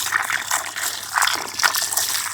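Tomatoes are rinsed by hand in water for making tomato jam, with continuous splashing and sloshing up close and brief pours and trickles, without speech.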